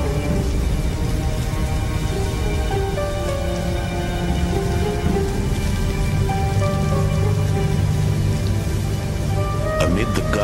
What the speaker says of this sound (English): real thunder engulfs Mala Mala